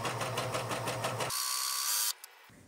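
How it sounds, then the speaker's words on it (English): A serger sewing machine runs in a steady, fast mechanical whir as it trims and overlocks a fabric edge, then shifts to a higher whine before stopping abruptly near the end, with no talking. "So as I run this through, it's actually going to trim it a little bit and serge perfectly up against the edge of it."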